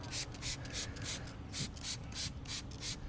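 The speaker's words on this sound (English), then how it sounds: "I'm gonna scrub the tire." A car tire being scrubbed with a brush and homemade tire cleaner, giving a steady run of rhythmic rubbing strokes about five or six times in three seconds, close and moderately loud with no talk.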